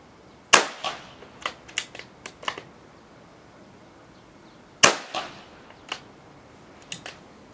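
Daystate Wolverine 303 .30 cal air rifle fires in two bursts of sharp, loud cracks, each first shot followed by several smaller snaps and clicks, with a quiet gap between the groups.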